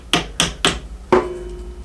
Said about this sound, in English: Gently with a hammer.